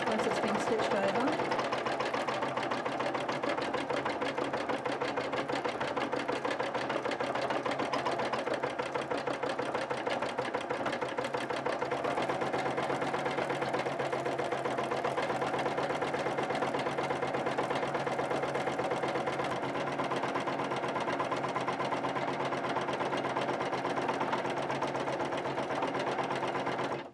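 An embroidery machine stitches a design over Mylar with a steady, rapid mechanical chatter that runs unbroken and loud for the whole stretch, while a person talks over it.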